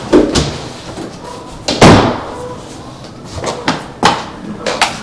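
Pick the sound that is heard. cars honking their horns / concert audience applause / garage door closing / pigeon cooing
garage door closing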